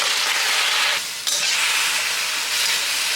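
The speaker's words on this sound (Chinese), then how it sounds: "我單獨給它炒一炒" Cauliflower leaves stir-fried alone in a wok give a steady, close, bright sizzle throughout, with a brief dip partway through as the greens are tossed, then the hiss returns at full strength; no one speaks.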